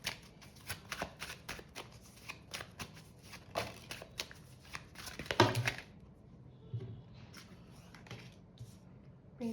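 Tarot cards are shuffled and drawn from a deck, giving soft close papery riffles and flicks in uneven bursts that stop abruptly near the end, leaving quiet rustles.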